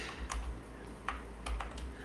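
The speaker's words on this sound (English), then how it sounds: "I'm holding shift and I'm pressing the arrow keys" Arrow keys on a computer keyboard are pressed with shift held down, giving a handful of soft, scattered clicks and taps over a quiet room hum, with no talking.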